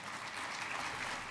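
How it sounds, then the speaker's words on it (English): A crowd at the Houston State of the City 2013 address applauds steadily, a dense, even wash of clapping heard faint and distant in the hall. "I appreciate the applause."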